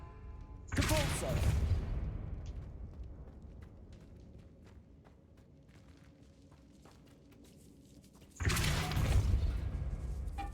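Depulso force spell in Hogwarts Legacy, two loud blasts, one near the start and one near the end, each a dense whooshing burst fading into a softer rumble, with faint clicks and footsteps in the quieter stretch between.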